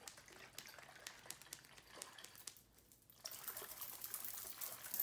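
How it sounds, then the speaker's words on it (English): IASO tea powder is shaken in a bottle of cold water, giving faint rhythmic sloshing and rattling that briefly pauses, then resumes as a denser, louder churning. "we're just gonna shake until this thing dissolves"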